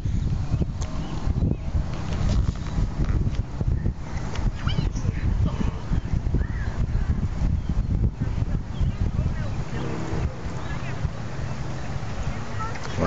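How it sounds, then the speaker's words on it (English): Wind buffets the microphone beside a lake at sunset, a loud, steady low rumble that runs the whole time, with voices talking faintly underneath. "It's windy."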